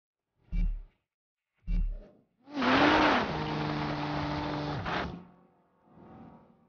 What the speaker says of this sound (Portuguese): Espera só para ouvir esse V6.